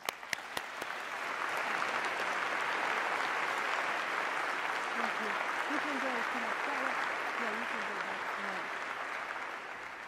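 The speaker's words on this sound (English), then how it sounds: "Let's give them a big round of applause." A large audience applauds at the opening ceremony of an international environmental assembly. The clapping swells into a sustained, even roar that lasts about ten seconds, with a voice speaking faintly underneath.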